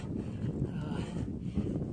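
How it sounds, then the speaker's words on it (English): Moderate wind blows across a mountain trail on the approach to Madison hut, a steady low rumble of gusts buffeting the microphone at close range without any voices. "It is windy, but not extremely windy."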